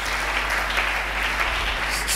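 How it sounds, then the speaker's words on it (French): A church congregation claps loudly during a French-language sermon, dense continuous applause filling the room at steady volume throughout. "Acclamons très fort"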